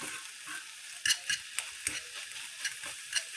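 Eggs sizzle steadily in a hot pan, a bright crackling hiss punctuated by scattered sharper pops and spits, close and fairly quiet.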